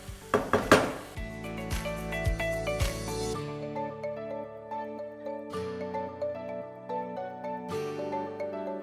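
A spoon clinks and scrapes against a pot while radish curry (mooli sabzi) is served, with sharp metallic knocks early on, then ringing scrapes and a few more taps spaced out.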